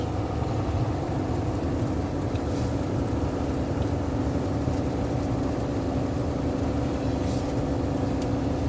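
Truck on a snowy Utah highway in a blizzard, braking lightly and then coasting near 52 mph; a steady loud engine and road rumble with wind noise continues unchanged throughout.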